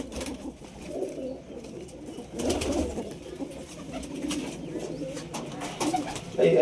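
Pigeons in a loft, a pair of pet birds scuffling, coo in low murmuring bursts through the clip with a faint busy background and occasional rustle.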